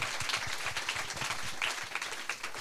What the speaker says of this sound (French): Est-ce qu'on peut l'applaudir quand même parce qu'on le découvre?